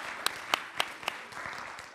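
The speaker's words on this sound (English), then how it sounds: "so let's give yourselves a round of applause" An audience at a lecture on democratic constitution-making claps in thanks, four distinct loud claps at a steady beat standing out over a faint, soft patter of applause that trails off.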